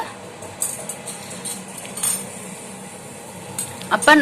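Metal rods of an electric beater clink and tap lightly against each other and hard surfaces, several faint scattered chinks with a brief rattle near the end, set against quiet room noise.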